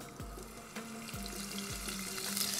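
Butter melts in a hot pot with added oil, giving a continuous close frying hiss with soft bubbling and a few low knocks of the pan.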